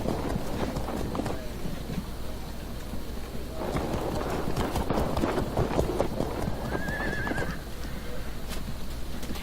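Horse hooves clip-clop in the strategy video game Field of Glory 2, a busy galloping patter with a horse neighing midway, playing steadily while someone talks over it.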